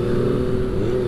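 A Kawasaki ZX25R motorcycle cruises in a high gear, its engine giving a steady, low droning hum with a constant pitch, close and fairly loud, without revving, and nobody speaks.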